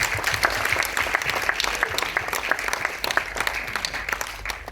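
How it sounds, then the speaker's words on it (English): An audience gives a steady round of applause during a #GameOfChange conversation event, dense clapping holding at an even level from start to finish with no talk over it. "please give a round of applause to Blair."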